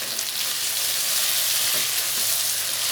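Chicken frying in a pot with onions and ginger-garlic paste for a Degh-style shahi chicken korma, a steady broadband sizzle with faint stirring scrapes, close and continuous, no voices.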